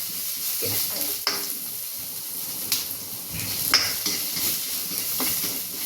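Stir-frying chilli and garlic in reused frying oil in a pan, with a steady soft sizzle and occasional scrapes and clinks of the utensil against the pan.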